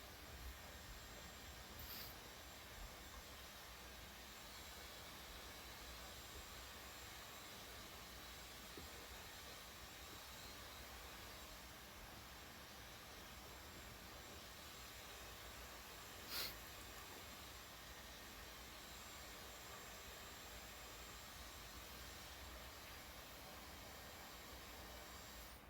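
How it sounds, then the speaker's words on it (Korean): A hair dryer runs in a nearby room, a steady, faint, muffled whooshing drone held throughout with no talking over it. "아 이거 청소기 소리 아니고 드라이기 소리입니다."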